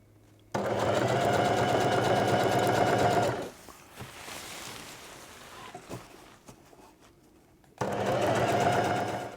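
A sewing machine stitches a reinforcement patch onto a camping tarp, running loud and steady for a few seconds. It stops during a quieter gap of handling, then starts stitching again.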